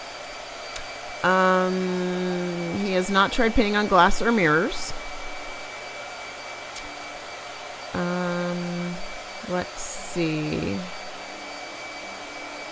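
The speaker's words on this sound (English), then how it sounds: "Sorry, blow dryer." A blow dryer runs in two bursts, a steady whirring hum near the start and another later on, with a voice talking in between and over it, the talk rising and falling against a quiet room background.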